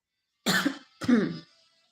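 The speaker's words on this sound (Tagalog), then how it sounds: "May kasamang ubo." Two short, rough coughs in quick succession, close and fairly loud, followed by silence.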